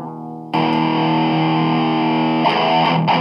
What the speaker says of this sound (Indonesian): kita pakai gitar elektrik, minta bantuan sama stompok yang ada kabinet simulatornya buat distorsi.